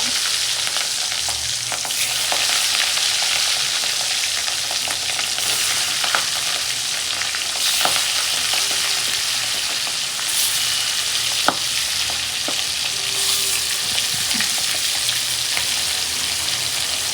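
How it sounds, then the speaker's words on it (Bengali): Turmeric-coated rohu fish pieces fry in hot oil in a wok, giving a steady, even sizzle with faint crackles and the odd light tap of a utensil. No voices are heard. "তো মাছগুলো ভাজা হতে থাকুক।"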